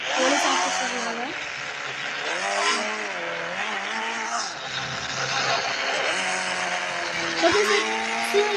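A car drives in a video game, its engine whining and revving with gear shifts and pitch sweeps that rise and fall, steady and close, with a brief tyre screech near the end.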